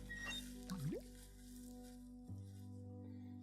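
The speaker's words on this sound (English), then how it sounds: "Use the bucket with the pump." Water is pumped into a bucket in the Day of the Tentacle video game, a short squishy gurgle with a rising pitch sweep over a steady tonal game background hum, no talk.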